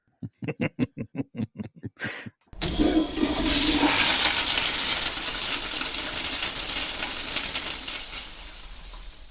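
A toilet flush heard close and loud after a quick series of rhythmic clicks and a brief pause, then a long rushing gush of water that slowly fades.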